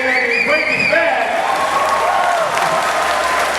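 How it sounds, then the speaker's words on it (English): An audience at a comic convention interview in Utrecht breaks into loud, sustained applause, a dense wash of clapping from a large crowd, with a voice speaking over it. "you gotta give them a round of applause for the role you had in Breaking Bad"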